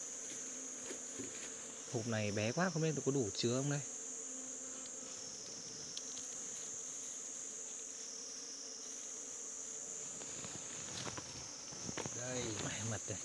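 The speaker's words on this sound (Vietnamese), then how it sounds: "con ong này nó cứ ve vẩy trước mặt mình" A bee buzzes close in front of someone's face, a thin steady whine that swells and fades as it hovers, while a person talks briefly in between.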